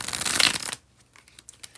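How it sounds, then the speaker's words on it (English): A tarot deck being bridge-shuffled: a dense, loud riffling burst of cards lasting under a second, then a few faint ticks and taps as the stack settles. "Alright, let us do the bridge shuffle."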